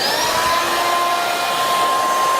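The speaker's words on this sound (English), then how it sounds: "So let me fire up this vacuum cleaner and we'll see how much more dust-free we can get." A vacuum cleaner and a cordless burnisher run together in a continuous loud whine and whoosh, steady and close throughout, with no voices.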